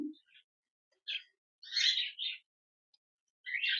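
Silver Java sparrows call from inside their cage: a few short, bright chirps and twittering bursts come in scattered clusters with quiet gaps between them, fairly faint and close, with no other sound.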